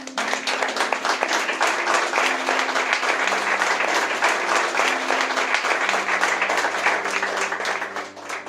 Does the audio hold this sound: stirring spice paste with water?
no